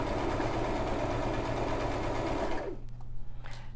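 Brother LX3817 sewing machine stitching a blind hem, a loud, steady whirring run of fast needle strokes that stops sharply near the end, leaving a low hum and a few faint clicks.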